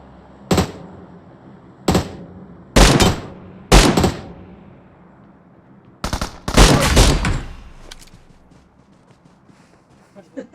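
Gunfire in the video game PUBG, a string of loud separate shots followed by a rapid burst, with players talking around them.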